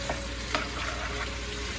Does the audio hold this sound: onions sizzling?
yes